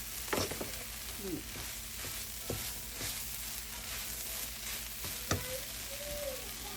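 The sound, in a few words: pork sizzling while dry-frying in pan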